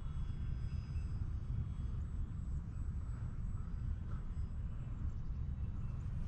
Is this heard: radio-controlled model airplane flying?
yes